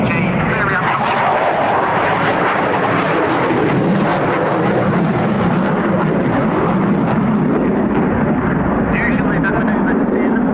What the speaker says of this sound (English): So here's Tom pushing the aircraft round